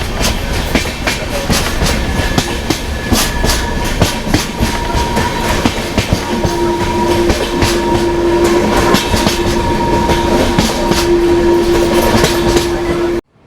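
The Gommateshwara Express passenger train running on the Sakleshpur ghat section, a loud continuous rumble with steady clickety-clack of wheels over rail joints and a sustained horn-like tone midway, heard from on board.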